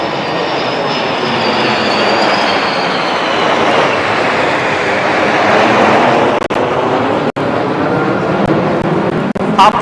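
Aircraft roar steadily overhead during an air show at Chennai Marina, a loud, continuous engine rumble that stays strong throughout with a few brief cutouts.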